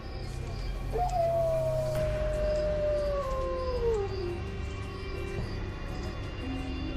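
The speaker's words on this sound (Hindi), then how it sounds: "तभी फिर से कुत्तों के रोने की आवाज आने लगती है" Dogs howl in a horror story scene, a long mournful howl sliding slowly downward, followed by a second overlapping howl over a steady low drone.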